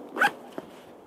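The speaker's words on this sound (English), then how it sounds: "I like the fact that there's a zipper on the side" A zipper on the side of an Icebug Metro BUGRip boot, one brief faint zip followed by a tiny click, quiet and close with no talk.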